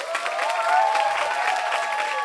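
A crowd at a youth parliament session claps steadily for a couple of seconds, with some cheering mixed into the brisk, continuous applause.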